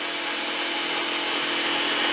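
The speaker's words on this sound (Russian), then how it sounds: "Распиливает все." A wooden armchair being cut apart with a power saw, a loud, continuous, close-up buzzing whine that holds steady throughout with no pauses.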